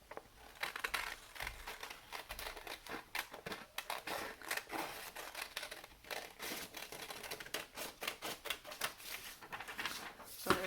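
Scissors snip through paper while cutting out a large paper doll shape for a Russian matryoshka craft, a close, busy run of rapid crisp cuts and rustles with no talking.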